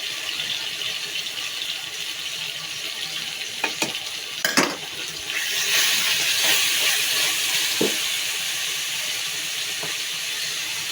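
Ginger-garlic paste fries and is stirred in a pan for a mung dal and ash gourd dish, a steady close sizzle and hiss with a few sharp scrapes of the spoon partway through and the frying swelling louder afterward.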